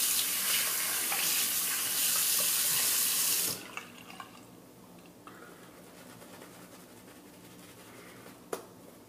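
Tap water runs hard and steady while a razor is rinsed under it, then cuts off abruptly partway through, leaving a quiet room with a few small clicks and faint bird calls.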